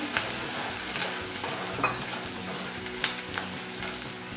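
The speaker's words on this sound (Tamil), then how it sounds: "ஒரு சின்ன சிட்டிகை அளவுக்கு மஞ்சள் தூள் நம்ம பொடி பண்ணி வச்சுருந்த மிளகு சீரகம் அண்ட் uh, வெந்தயம் அந்த பவுடரையும் போட்டுடலாம் போட்டு நல்லா வதக்குவாங்க" Onions sauté in oil with turmeric and ground pepper, cumin and fenugreek powder for prawn thokku, a steady close sizzle broken by occasional light stirring scrapes.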